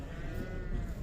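Sheep bleat at a busy livestock market, a single drawn-out bleat rising faintly above the general crowd murmur in the open-air yard.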